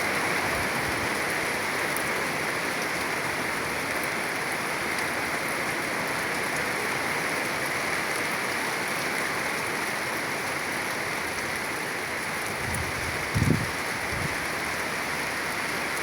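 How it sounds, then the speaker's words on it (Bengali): Heavy rain pours steadily in Gazipur in a dense, even hiss, with a brief low thump near the end and no voices. "সেই পরিমাণে বৃষ্টি হইতেছে"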